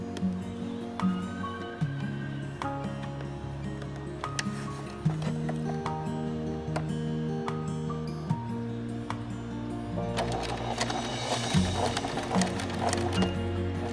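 Sewing machine back-stitching elastic onto the edge of a cloth face mask, a steady mechanical whirring and stitching rhythm that runs throughout, rising busier near the end.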